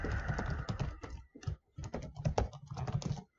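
Quick clattering keystrokes on a computer keyboard enter an Azure CLI login command, two close bursts of rapid typing split by a brief pause.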